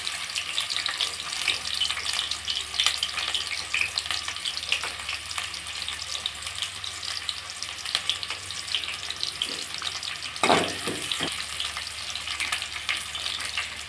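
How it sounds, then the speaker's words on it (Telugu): Onions frying in hot oil for dum chicken give a dense, steady hiss and crackle close by, with brief clatter of stirring near the end and no voices. "ఆయిల్ వేడయ్యాక ఆనియన్స్ వేసుకోవాలి."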